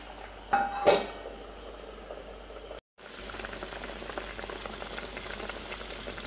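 Mackerel fish curry with ground coconut and kudampuli boils in a covered pot, a steady close bubbling hiss with a couple of brief knocks early on and a momentary dropout midway, no talk.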